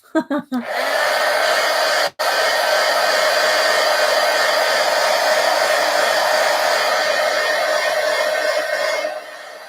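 A hair dryer blows steadily on art journal pages, a loud, constant whooshing roar that starts after a few quick bursts, cuts out for a moment, then runs without a break for several seconds before tapering off.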